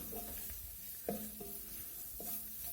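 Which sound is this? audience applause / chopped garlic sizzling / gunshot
chopped garlic sizzling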